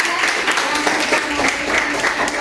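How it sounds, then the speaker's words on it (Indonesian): Students in a classroom applauding, a dense wash of clapping from a small group, close and steady throughout, with talk mixed in. "tepuk tangan dulu"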